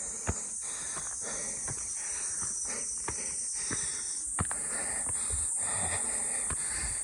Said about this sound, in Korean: 매미 소리도 좋네요.